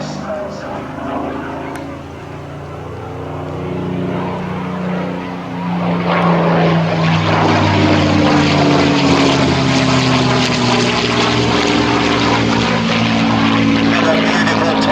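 Supermarine Spitfire Mk IX fighter making a low flying pass at an airshow, its propeller engine drone swelling from a moderate hum to a loud, sustained roar with a falling pitch as it passes, with a commentator speaking over it.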